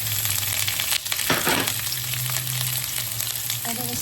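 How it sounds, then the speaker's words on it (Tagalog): Onion, garlic, peppers and shredded pork stir-fry in a hot pan with a steady, close sizzle, broken by a few louder scraping stirs. "And then, stir fry lang natin to."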